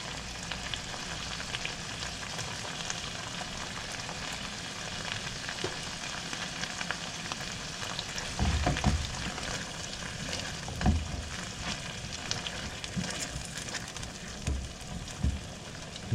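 Tomato sauce with garlic and herb Kerrygold butter and a touch of cream simmers in a pan, giving a steady close bubbling sizzle throughout, with occasional louder scrapes and knocks as it is stirred and no talking.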